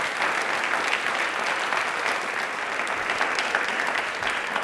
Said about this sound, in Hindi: जोरदार वाली बजानी चाहिए प्लीज।